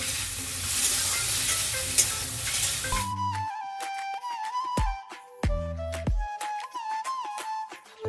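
Food sizzling and frying in a pan, a steady loud hiss for a few seconds before music takes over.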